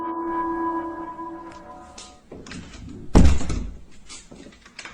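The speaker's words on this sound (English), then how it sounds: "his bedroom door suddenly slams shut" A sustained tone fades into quiet rustling, then a single heavy thud of a bedroom door slamming shut rings out, followed by low rumbling.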